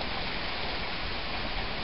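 Rain has just started falling outdoors by a dead-end creek, and it makes a steady soft hiss of drops on surfaces that stays fairly faint and even throughout, with no voices.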